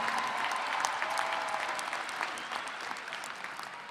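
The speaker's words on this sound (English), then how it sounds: "Let's have a round of applause for our vets." A commencement audience applauds veterans, steady dense clapping from a large crowd that holds evenly and eases slightly toward the end.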